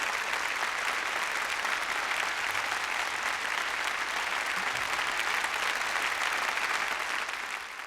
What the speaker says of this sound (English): Everyone, please take a moment to applaud these dedicated employees.